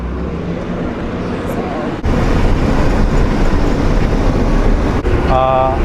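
A bus pulls up and idles at a roadside stop in Sri Lanka, with a loud, steady engine rumble and road noise that swells partway through and holds to the end.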